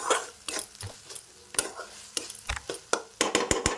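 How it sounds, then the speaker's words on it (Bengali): A spoon stirs whisked sour yogurt into a cooked tomato and spice masala in a pan, for a cabbage kofta curry; quick, close scraping strokes in an uneven rhythm over a faint sizzle, with no talking. "এইবারে আমি মেশাবো এর মধ্যে আগে থেকে ফেটিয়ে রাখা টক দই"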